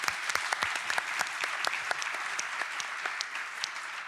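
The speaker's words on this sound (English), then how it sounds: "I think that deserves a round of applause." Steady audience applause at a European research and innovation conference main stage, dense clapping filling the whole stretch with a few sharper individual claps standing out, no talk over it.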